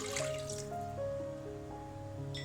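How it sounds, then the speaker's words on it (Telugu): Water poured into a pan for cooking Maggi noodles, a short steady pour with a faint splash and dribble, close and quiet. "2 కప్స్ మీద కొంచెం వాటర్ పోస్తున్నా."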